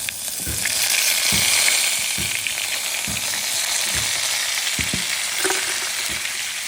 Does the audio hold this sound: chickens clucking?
no